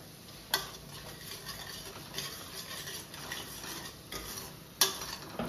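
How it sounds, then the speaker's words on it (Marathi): Masala paste made with roasted onion and tomato is cooked in a pan for chole: a faint, steady frying hiss with soft stirring scrapes and a couple of sharp clicks of a spoon against the metal. "छानपैकी ही आता पेस्ट आपल्याला भाजून घ्यायची अशी."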